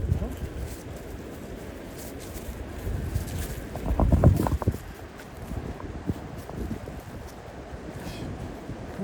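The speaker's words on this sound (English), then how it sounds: "the wind blowing through the trees" Wind gusting through trees on a wooded hiking trail in the Pocono Mountains, a broad rushing roar that swells to a louder gust midway and then settles, with buffeting against the microphone.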